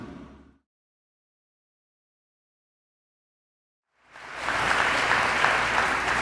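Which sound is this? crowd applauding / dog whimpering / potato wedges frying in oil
crowd applauding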